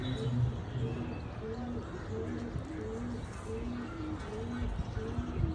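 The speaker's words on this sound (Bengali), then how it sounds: "এই যে কবুতরটা" Repeated low, soft cooing from a Beji pigeon in Dhaka, with steady background noise and what sounds like talking throughout.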